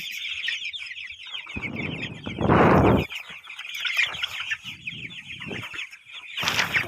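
Twenty-day-old Tiger chicken chicks on a farm peep continuously in a dense high chorus, close and steady, with bursts of rustling and wing flapping breaking in, no talk.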